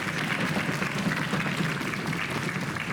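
Studio audience applauding quiz contestants on a game show, a steady, dense wash of clapping that holds evenly throughout with no voices over it.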